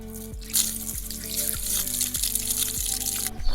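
Water runs steadily into a garden hose as it fills, a continuous loud rush with repeating gurgling, falling tones.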